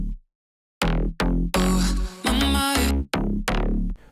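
A dry synth drop without reverb: after a brief silence, punchy chord stabs with deep bass hit in a choppy rhythm, each cutting off cleanly, loud and alone.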